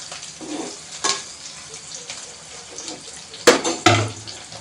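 Water from a tap runs over small brinjals being washed in a kitchen sink, with a quiet trickle broken by a few sharper splashes and knocks near the end.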